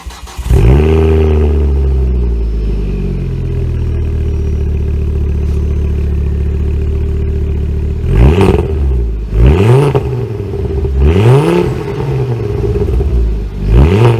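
A Ford Focus ST225 with a Volvo five-cylinder engine idles with a deep, steady rumble, then revs sharply several times in quick bursts, loud and close.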